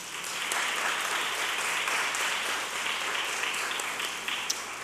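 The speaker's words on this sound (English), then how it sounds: "Commissioner, please give them all a big round of applause." An audience at a Philadelphia mayoral announcement of a universal pre-kindergarten commission gives the commissioners a sustained round of applause, even and full throughout.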